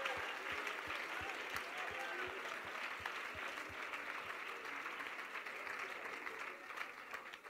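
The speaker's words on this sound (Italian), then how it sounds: "Now clap your hands." Church congregation applauding during a bilingual English-Italian worship service, a steady dense wash of many hands clapping that carries on evenly for the whole stretch, with a few sharper individual claps standing out and voices faintly mixed in.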